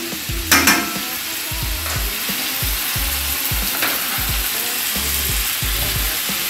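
Chicken ballotine frying in a pan, a continuous close sizzle broken by repeated soft knocks and scrapes of utensils at a regular pace, with a sharper clatter near the start.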